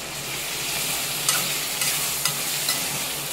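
Chopped tomatoes frying in a pan, a steady loud sizzle throughout with occasional brief scraping stirs, no voices.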